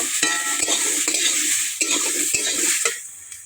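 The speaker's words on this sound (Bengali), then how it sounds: "কেটে ধুয়ে রাখা পটলগুলো দিয়ে দেব। নেড়ে চেড়ে নেব।" Sliced pointed gourd is stirred and tossed in a hot, sizzling frying pan. Close, rhythmic scrapes and clacks of a utensil against the pan repeat over a continuous frying hiss, then fade near the end.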